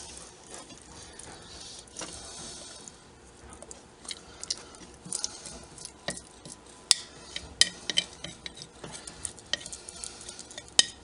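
Sourdough starter being stirred in a jar, giving a faint, steady scraping and sticky churning close by, with sharper clicks of the utensil against the glass growing more frequent toward the end.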